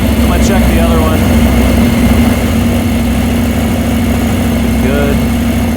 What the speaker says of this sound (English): rev it up a little bit. Go ahead. A little more, right there.